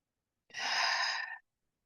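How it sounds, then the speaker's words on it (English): A single deep breath drawn in during a guided breathing exercise, one close, soft airy inhale lasting about a second, alone in near silence. "One more time, breathe in."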